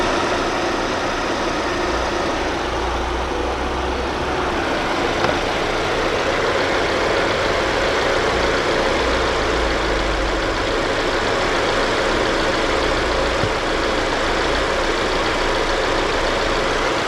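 A 2015 Hyundai LF Sonata with an LPI engine idles, heard close up in the engine bay. It makes a steady, even hum with a low rumble and no knocks, and it holds loud and unchanged throughout.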